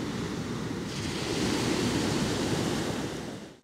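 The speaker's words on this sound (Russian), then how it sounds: "Это пляж для людей с ограниченными возможностями." Surf rolls steadily onto a beach in Spain at a soft dawn, a loud, continuous wash of breaking waves with wind buffeting the microphone and no voices.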